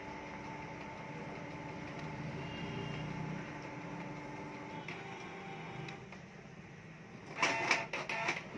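A Canon G-series inkjet printer feeds in a sheet of paper and prints a nozzle test pattern: a steady low mechanical whir and hum, then a short burst of clicks and rattling near the end, heard alone up close.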